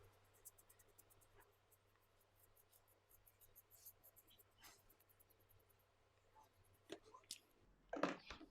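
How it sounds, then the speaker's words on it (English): A whiteboard marker is drawn across a knife blade before a Lansky sharpening test, giving faint, scattered squeaky scratches and clicks that end in a louder cluster of taps. "we're going to use a whiteboard marker so that we can see or check if the blade is getting"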